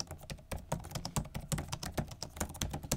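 Fingers type quickly on the keyboard of a cheap Best Buy gaming laptop with a numpad, making a dense run of light, plasticky key clicks that stay close and fairly quiet throughout.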